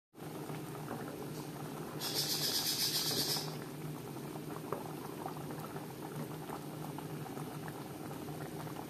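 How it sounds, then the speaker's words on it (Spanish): Catfish in coconut milk, a Caribbean dish, simmers in a pot, giving off a steady low bubbling and burbling throughout, with a brief brighter hiss partway through; no talking. "Hay que dejarlo que evapore más el agua, que quede más ensalzado."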